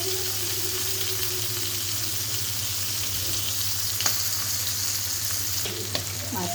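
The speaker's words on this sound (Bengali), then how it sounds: "মাছটা একটু লবণ হলুদ দিয়ে মাখিয়ে এখন আমি তেলে ভেজে নেব।" Tengra fish rubbed with salt and turmeric sizzles steadily in hot oil in a village kitchen, a dense, even crackling hiss that stays loud and constant throughout, with a couple of faint clicks near the end.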